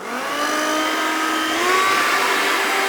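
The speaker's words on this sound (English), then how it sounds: "I'm going to blow dry this back like this." Hair dryer running at high speed and high heat while blow drying hair back during a haircut, a steady close whirring rush that swells slightly louder midway, with no talking.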